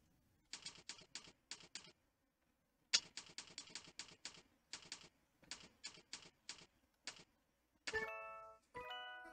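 Single keystrokes on a computer keyboard come in short, irregular bursts with pauses between, close and clear, then a brief chiming tone near the end.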